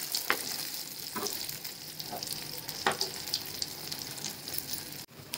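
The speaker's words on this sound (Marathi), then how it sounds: "शालो फ्राय करून घ्यायची" Leftover rice tikki shallow frying in a pan until crisp, a soft continuous sizzle with a few scrapes of a spatula, close and moderately quiet, no talk.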